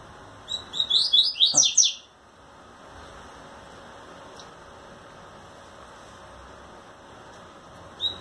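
A rusty-collared seedeater (coleiro pardo) sings a quick burst of bright, high chirping notes near the start, close and clear, with only faint background hiss afterward and a tiny chirp at the very end.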